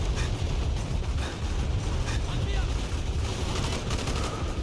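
Commando rifle fire in the Call of Duty: Black Ops campaign comes as dense, continuous bursts of gunshots mixed with battle noise, loud and unbroken for a few seconds.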